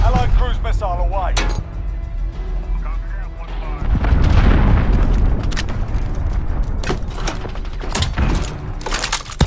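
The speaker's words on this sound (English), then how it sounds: "Allied cruise missile away" A cruise missile strike during multiplayer Domination on Hackney Yard in Call of Duty: Modern Warfare, a heavy rumbling blast mid-clip surrounded by sharp gunshots and game radio voices.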